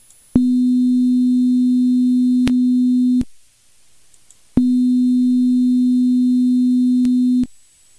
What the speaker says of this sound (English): This is our sine wave.